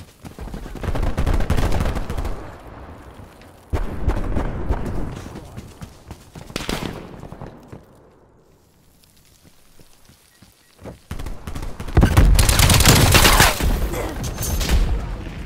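Loud bursts of automatic gunfire from a Call of Duty team deathmatch, several heavy volleys with short quiet gaps between them, the last burst running long and dense.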